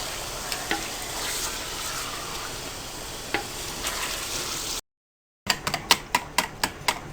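Chicken fries in a pan with a steady, loud crackling sizzle and occasional spatter pops. After a brief cut, a run of quick metallic stirring taps follows, and no one speaks.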